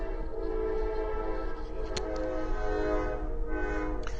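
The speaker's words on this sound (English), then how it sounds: "Excuse the train" A train passing close by, with a loud, steady rumble of rail cars throughout and a tonal horn sounding over it.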